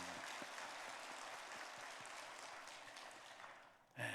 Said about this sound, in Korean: 우리 그 찬양대를 위해서도 한번 격려의 박수, 또 하나님 앞에 감사의 박수.